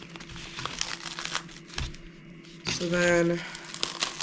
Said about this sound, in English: first off, you just want to start by opening the seal here.